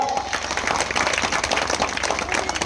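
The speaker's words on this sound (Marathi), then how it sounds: "म्हणून त्या राजासाठी एकदा जोरदार टाळ्या वाजवूया" An audience at a Shiv Jayanti celebration in Dehane claps for Shivaji Raja, a dense, steady burst of applause from a crowd filling the space throughout.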